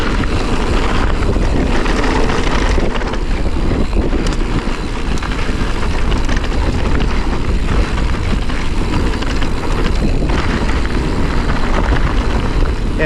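Coastal wind roars steadily while a mountain biker rides the coastline at Montana de Oro, a loud, unbroken blustery rush that buffets the microphone for the whole stretch, with no speech.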